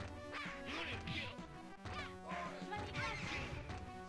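Squawking, quacking cries from a bird enemy attacking in a video game, repeating in bursts over a busy stretch of game sound.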